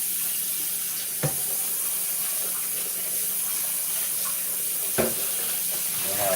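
Tap water runs steadily from a faucet into a container for boiling, a continuous hiss with two brief knocks or clinks partway through.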